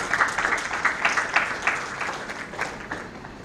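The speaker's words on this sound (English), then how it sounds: "So can you please give a round of applause welcoming our chief guest." Applause at an opening ceremony welcomes the chief guest: a small audience clapping in distinct, moderately quick strokes, fairly soft and fading slightly toward the end.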